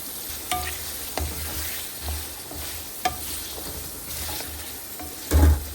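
Potatoes and bitter gourd fry in a pan with a constant sizzling hiss, broken by repeated scraping and stirring knocks and a louder clatter near the end; no one speaks.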